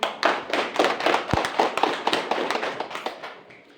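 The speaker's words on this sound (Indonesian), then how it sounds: "anak-anak, tepuk tangan dulu untuk Kelvin." Children clapping for a classmate in a school classroom, a quick burst of scattered, uneven hand claps with one sharper thump partway through, fading out toward the end.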